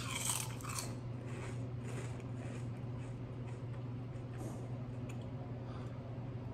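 Buc-ee's Buc-o's snack being crunched and chewed close up, a steady run of soft crunches with no talking.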